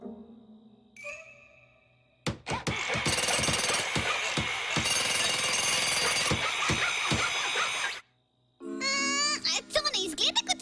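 A cartoon hammer bangs in a fast, loud, sustained burst of rapid jackhammer-like blows, then stops abruptly before bright, chirpy effects follow.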